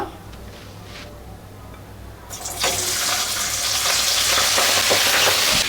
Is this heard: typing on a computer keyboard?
no